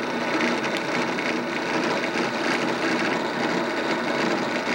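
A drill bit runs in a machine shop machine, shortened so only an eighth of an inch sticks out, giving a steady, loud whirring grind that holds without a break and with no talking.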